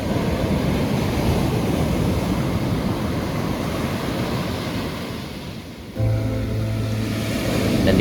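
Ocean surf rolls onto the beach at Kelumbayan in Tanggamus, Lampung, a steady broad wash of waves with wind across the microphone, loud and continuous with no talk.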